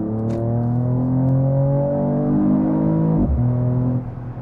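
Six-cylinder engine of a 2021 Mercedes-AMG E53 Cabriolet accelerating hard, a loud rising drone that climbs through a gear, briefly drops at the shift, then pulls again before easing off.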